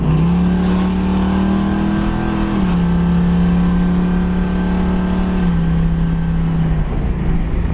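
A 1979 Pontiac Trans Am SE accelerates through its gears, its engine droning loud and close with a steady rising tone that dips at each shift, about two shifts in a few seconds.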